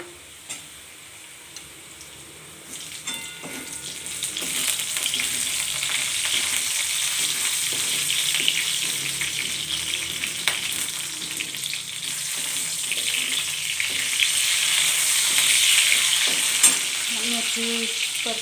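Green chillies sizzle and fry in a pan, with a steady hiss that grows louder partway through and occasional stirring clinks, close and continuous with no talk.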